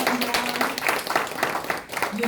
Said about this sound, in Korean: 우리 작가로서 좀 더 앞으로 성장할 수 있도록 이런 박수 한번 부탁드릴게요